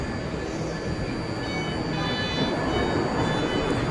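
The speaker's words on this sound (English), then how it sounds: "There it is, highballing out of the Coliseum BART station, a San Francisco bound train." A San Francisco-bound BART train pulls out of Coliseum station, its steady rumble and rolling wheel noise swelling close and loud, with faint high squeals over the run and no talk.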